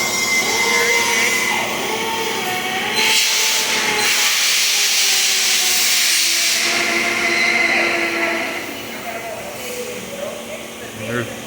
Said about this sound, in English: She's fixing to weld.